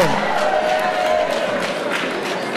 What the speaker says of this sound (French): Et tous les autres, applaudissez-les très fort